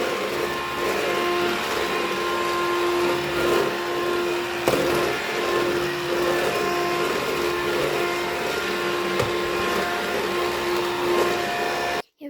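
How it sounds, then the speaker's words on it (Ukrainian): A vacuum cleaner runs through a room at home with a steady tonal hum and whine, its pitch wavering slightly as it moves, before cutting off abruptly at the end. "А поки що беремо пилосос і пилососом."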